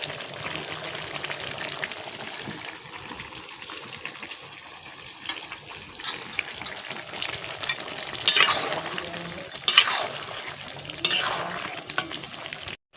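Duck curry with potatoes being stirred and fried in a pan, with a steady sizzle and bursts of scraping stirring toward the end, close and clear with no talking.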